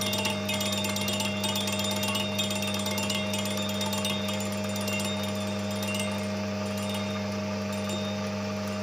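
A metal lathe machining a round clutch part for a BSA Bantam to Yamaha clutch conversion, giving a steady loud mechanical hum with a continuous high metallic ringing chatter throughout, no talking.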